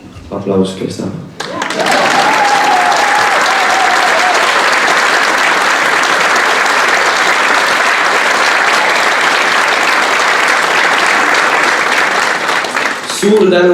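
Sustained audience applause at a school concert and ceremony in Estonia, starting abruptly after a brief moment and holding loud and steady for over ten seconds before tapering at the end.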